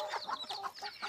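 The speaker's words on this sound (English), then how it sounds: "These are little tiny Serama Bantams." A tiny Serama bantam hen near her chicks gives soft, rapid clucks and chirps close by, quiet and continuous over a brief moment.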